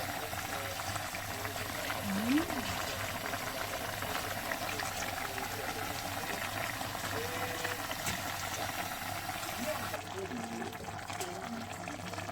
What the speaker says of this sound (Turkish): Kaynamaya devam ediyor.